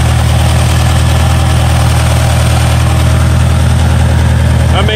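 A Jeep JK with a 392 Hemi V8 idles at low RPM, its exhaust giving a loud, close, deep rumble with a steady lopey pulse throughout.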